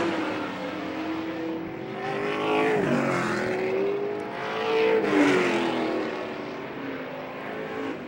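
Race cars on a 1-lap dash to the checkered flag roar past in a loud, continuous engine drone, with pitch swelling and dropping as cars sweep by twice.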